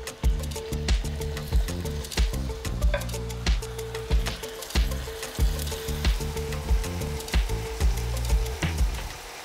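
Thin slices of chicken breast, cut about 6 to 8 millimetres thick, frying quickly in a pan, giving a steady sizzle with rhythmic crackles and pops close by, with no talking.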